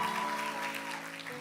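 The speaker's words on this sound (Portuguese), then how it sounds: "vamos aplaudir a Jesus." A church congregation claps together, a soft, brief burst of many hands that stays fairly faint and distant, with a sustained tonal hum lingering underneath.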